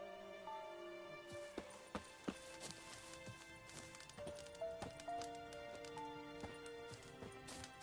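Hooves of the horse Roach clip-clop steadily at a gallop in The Witcher 3, a quick rhythmic patter under game music, with a faint whinny and no talk over it.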